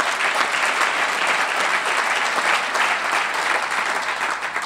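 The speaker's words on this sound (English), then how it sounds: "Steve, give him a round of applause." An audience at a State of the City address in Portland claps steadily, a full, even ovation of many hands sustained at moderate loudness throughout.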